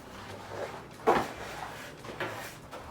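A closet door in a hotel room opening indoors, with a sharp thump or click near the start and a softer knock a moment later over quiet room tone.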